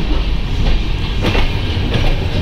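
Another train rumbles past alongside, heard from inside a moving train coach: loud, steady clickety-clack of wheels and wagon noise filling the whole stretch, with no talk.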